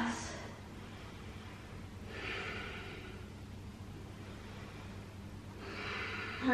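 Deep breaths during a yoga stretch come as three soft, airy inhales and exhales spaced a couple of seconds apart against a quiet room.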